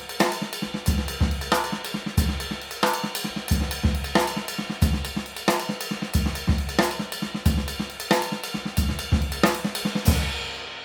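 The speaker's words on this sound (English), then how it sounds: "I especially like using the bell of the ride cymbal with my right hand to get some cool sounds within this paradiddle groove." A paradiddle drum groove with the right hand on the bell of a ride cymbal, moving in a steady repeating pattern of punchy low drum hits under bright, ringing metallic strikes, played alone with no talk.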